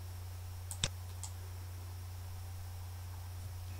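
Two or three sharp computer mouse clicks close together, against a steady low electrical hum, while configuring a Fortigate firewall's IPSec VPN in a home lab.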